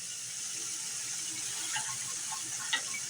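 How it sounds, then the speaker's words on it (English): Water streams into a pot of stew meat in a soft, continuous hiss and splash, with one brief clink near the end and no talking. "Then I'm going to cover this over with water."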